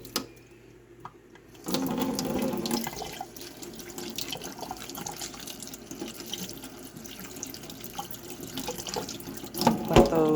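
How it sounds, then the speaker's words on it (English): Tap water runs steadily into a kitchen sink to rinse potatoes and onions, a continuous hissing splash that starts abruptly and carries on at moderate level with small clinks of produce near the end. "Let those rinse for a bit."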